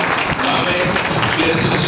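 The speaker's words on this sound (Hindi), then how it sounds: "वीर सैनिकों के लिए जोरदार ताली बजाइए और अपने लिए ताली बजाइए" Audience applause at a kavi sammelan poetry gathering in Ghaziabad, a dense, steady wash of many hands clapping at once, loud and close, with crowd noise mixed in throughout the short stretch.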